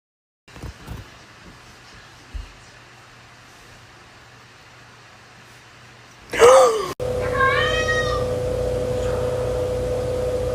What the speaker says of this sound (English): So I have this cat that has a really cute meow.